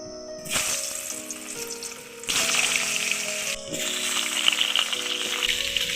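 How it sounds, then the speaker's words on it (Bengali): Potatoes frying in reused oil for a soybean curry, a steady loud hiss and sizzle after they drop into the pan, with a brief lull and renewed crackling bursts throughout, no voices. "আমি এখানে তেল পাল্টাবো না ওই তেলেই দিয়ে দেবো আলুগুলো"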